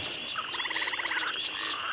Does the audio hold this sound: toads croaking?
yes